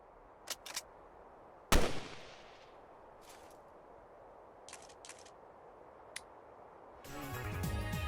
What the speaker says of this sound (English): it's time for the audio for this gun.